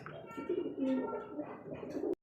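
A pair of beauty pigeons coo softly at close range in a few rolling, throaty phrases that rise and fall, ending in a brief click.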